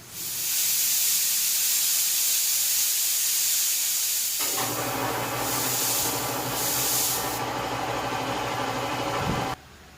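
A Paint Zoom paint sprayer blows a strong, steady hiss of air from its nozzle. Partway through, a deeper motor hum from the compressor joins in with a rough sputtering texture, then stops abruptly near the end.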